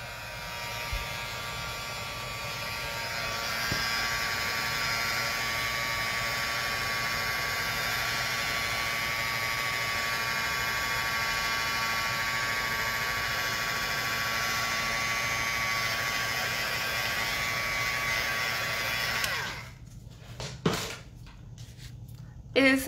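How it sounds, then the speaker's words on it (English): A heat tool blows a steady, loud, broadband rush of hot air to dry alcohol ink on a card. It runs continuously for about 19 seconds and then cuts off abruptly, leaving quieter handling noises. "I have my heat tool here and it's going to get loud for a second"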